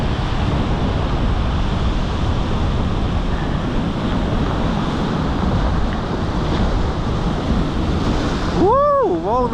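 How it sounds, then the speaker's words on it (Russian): Stormy sea on the Crimean coast at Bugaz, with heavy waves crashing continuously under strong gusting wind and microphone buffeting, loud and close throughout, ending with a brief rising whistle-like tone. "Шторм на море."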